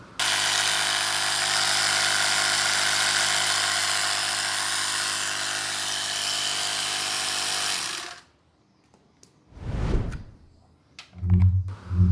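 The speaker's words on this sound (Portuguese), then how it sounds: "a tomada 12 volts alimentando o compressor" A portable air compressor running off a Kawasaki Versys 650 motorcycle's 12 V socket drones steadily and loudly for about eight seconds, then cuts off, leaving a few brief low thumps and knocks in near silence.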